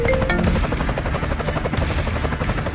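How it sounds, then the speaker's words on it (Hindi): A helicopter's rotor thumps in a rapid, steady beat over a loud engine whine, close and continuous with no voices. "अरे ये तो करोड़ों का हेलीकॉप्टर है"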